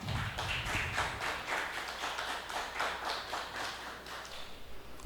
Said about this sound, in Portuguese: eles merecem palmas mesmo